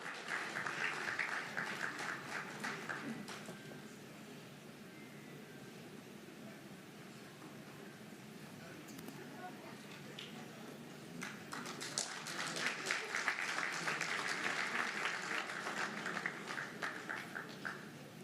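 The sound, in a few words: audience applause at signing ceremony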